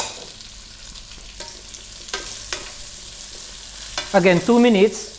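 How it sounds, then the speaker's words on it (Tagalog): Carrots, cauliflower and broccoli fry in a pan with a soft steady sizzle and a few stirring clicks; a person speaks briefly near the end. "lulutuin na natin yung ating carrots, cauliflower, at ang broccoli"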